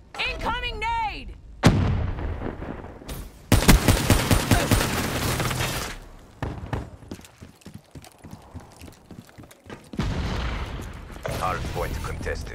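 Black Ops 3 multiplayer combat: a grenade blast and bursts of rapid gunfire crack loudly at close range, mixed with other battle effects and in-game voice announcements.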